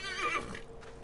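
Horse mount in the video game Assassin's Creed Origins giving a clear, close whinny with a brief trailing snort.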